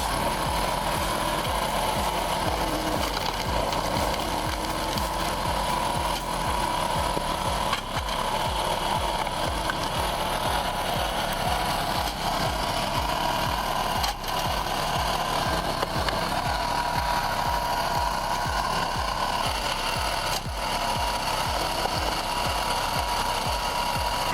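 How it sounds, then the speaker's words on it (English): A conveyor-fed log splitter cutting and splitting firewood: loud, continuous machine roar with rapid rhythmic mechanical clatter and occasional heavier knocks, sustained throughout. "That conveyor-fed log splitter keeps every round moving without wasted motion"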